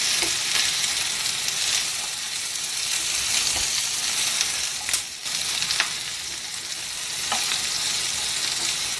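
Ridge gourd and green chillies fry in a hot pan, giving a steady, close sizzling hiss throughout with a few brief stirring scrapes and clicks.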